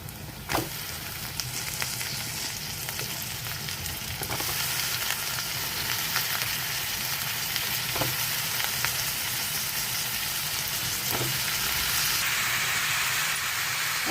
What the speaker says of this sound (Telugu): వంకాయ ముక్కలు వేసేసుకుందాము.